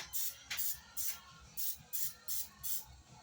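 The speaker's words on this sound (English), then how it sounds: "I'm going to use a little no-stick spray." No-stick cooking spray sprays into a preheating pan in seven short bursts, each a bright close hiss with a faint mechanical click from the nozzle, evenly spaced and quiet.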